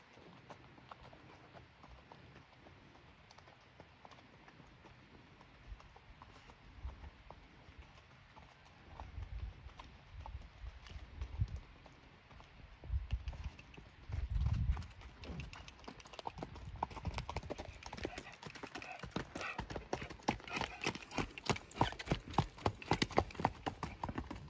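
A horse lopes in an arena, its hooves drumming a steady, rhythmic clip-clop at moderate distance that grows closer and louder toward the end, with a rider being coached in the background.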